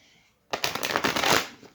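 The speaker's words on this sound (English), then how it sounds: "One more shuffle" A deck of tarot cards is shuffled close by in a quiet room, making a dense, crisp riffling flutter that lasts about a second with no talk over it.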